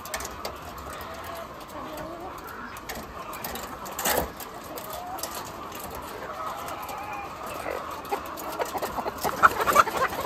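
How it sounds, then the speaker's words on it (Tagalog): Chickens cluck and squawk faintly in a noisy coop in Batangas, disturbed during egg collecting, the calls scattered and growing busier toward the end. "Ang ingay ng mga manok, na-istorbo ko sila."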